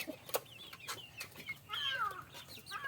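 Chickens cluck and call beneath a hen house, a few scattered soft clucks and one longer drawn-out call over quiet farmyard background.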